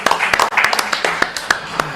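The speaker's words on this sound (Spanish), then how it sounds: "Un aplauso gracias." An audience claps for a guest, Juan Palomino, at a live radio interview, sparse uneven claps ringing out fairly close over about two seconds, with someone talking through it.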